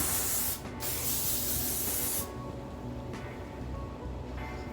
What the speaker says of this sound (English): I usually always spray my hair again.